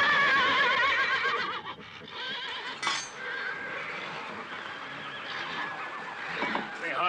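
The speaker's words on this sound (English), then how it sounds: "Hey, something's bothering those horses." Horses whinny and neigh in an outdoor Western ranch setting, a loud high shrill call rising over steady background noise with a second burst near the end, alongside some voices.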